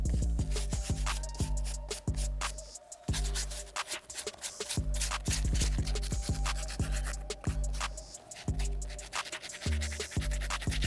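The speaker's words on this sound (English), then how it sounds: "I'm gonna use this stiff bristle brush to clean all that stuff out" A stiff bristle brush scrubs inside a sneaker with rapid, rhythmic back-and-forth strokes, close and crisp, the scratchy passes repeating steadily without pause.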